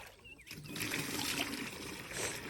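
Water trickles and splashes steadily from a broken fountain outdoors, a faint continuous liquid dribble with brief chirps and a murmur of background activity.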